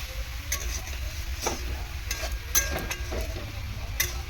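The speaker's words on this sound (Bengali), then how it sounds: "কোনো জল দেব না, ঢাকা দিয়ে দিয়ে থোড়টাকে ভেজে নেব।" Banana stem frying with potato and shrimp in a pan, heard as scattered, irregular stirring scrapes and taps over a soft, low sizzle, fairly quiet and close, with no one speaking.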